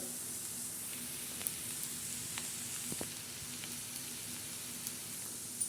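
A chana dal recipe pan of onion, coriander, green chilli and garlic sizzles softly and steadily while being sautéed, with occasional light scrapes and taps of a spoon against the pan.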